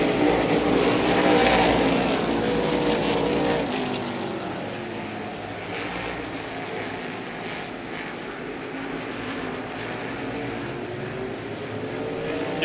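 Race cars roaring side by side for the lead on lap 37 of the Cardinal 99, a loud sustained engine drone with shifting pitch as the cars pass, fading slightly after the first few seconds.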